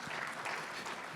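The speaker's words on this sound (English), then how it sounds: "You guys are clapping all out of order here, but I appreciate it." A convention audience bursts into a short, dense round of applause, many hands clapping together steadily throughout.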